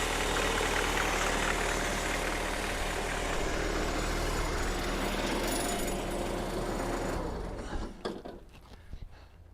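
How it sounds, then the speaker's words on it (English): A Bobcat T190 skid steer running on a newly installed remanufactured turbo engine, a loud, steady rattling diesel roar with turbo whistle that drops away sharply near the end. "It's got a good whistle to it too."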